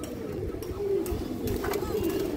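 Ring-eyed pigeon with deep purple legs cooing softly in low, continuous murmurs, a close and steady throaty rumble throughout.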